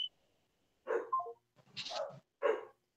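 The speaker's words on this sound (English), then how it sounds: "Your feedback made my dogs go crazy." Dog barks nearby, three or four short sharp yelps and woofs in quick succession, loud and close, with a brief quiet before them.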